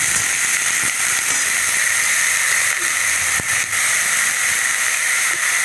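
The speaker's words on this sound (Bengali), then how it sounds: "আলু কুচি, গাজর কুচি, তারপরে ক্যাপসিকাম কুচি, ফুলকপি, বাঁধাকপি দিয়ে একটু নাড়াচাড়া করে নিলাম" Chopped potato, carrot, capsicum, cauliflower and cabbage sautéing in a pan give a steady close hiss, with a few soft scrapes and knocks of stirring scattered through.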